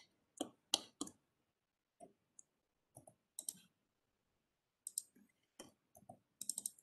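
Soft computer mouse clicks, mostly in quick pairs, scattered irregularly across several seconds, close and quiet with no talking.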